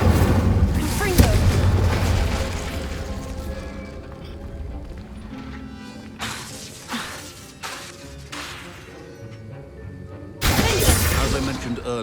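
Incendio and Confringo spell blasts in Hogwarts Legacy burst out as loud crackling booms and shattering impacts, with a dense blast at the start and another near the end, under game music and character voices.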